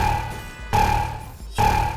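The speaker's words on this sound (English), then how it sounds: "The Flowing Katana is one of those top spender swords as well, and it sounds like this." Flowing Katana sword from Roblox Blade Ball, a pair of bright sustained ringing tones with a soft low rumble, each lasting under a second and separated by a short gap, close and steady with no voices.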